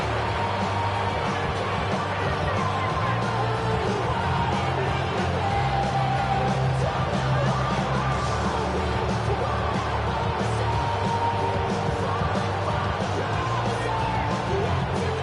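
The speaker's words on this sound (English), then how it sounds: "the crowd here at MetLife Stadium in full roar" A football crowd at MetLife Stadium roaring during an Eagles–Broncos game, a dense, sustained wash of cheering and yelling that stays loud and steady throughout.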